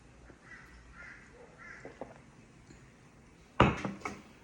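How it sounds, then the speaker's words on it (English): Wild birds in a garden call outdoors, with soft, faint chirps and caws spread across the first seconds, then a louder, harsh burst of squawking near the end against a quiet background. "I've got Charlie out in the garden, being out there with the wild birds playing"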